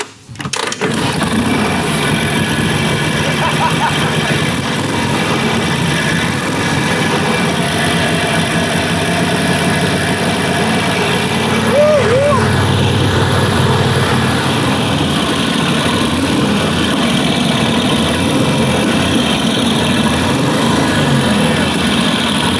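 An old motorcycle, left sitting for 40 years, fires up after a kick and settles into a steady, loud idle, its light engine running continuously with slight fluctuations close by.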